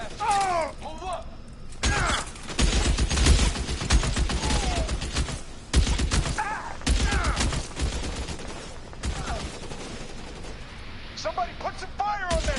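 Gunfire shootout in the L.A. Noire video game, with rapid volleys of shots and bursts of automatic fire crackling throughout, loud and dense, interrupted by brief lulls, while voices shout over the fighting.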